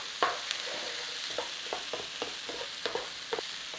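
Potatoes being stirred and turned in a dry pan with no oil, giving soft scraping and scattered light knocks over a quiet sizzle, close and without talk.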